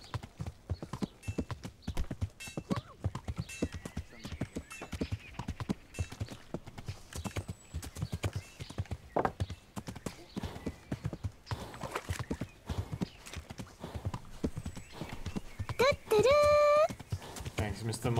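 Steady clip-clop of horse hooves in Kingdom Come: Deliverance, with a brief whinny near the end, mixed under ongoing talk and game sounds.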